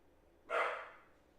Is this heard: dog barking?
yes